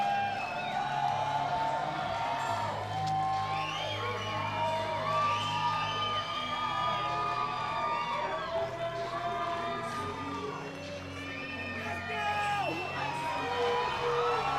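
An arena crowd at a mixed martial arts event cheers and whoops steadily as a fighter walks to the Octagon, with a dense, continuous roar of voices and bright music-like tones over the top.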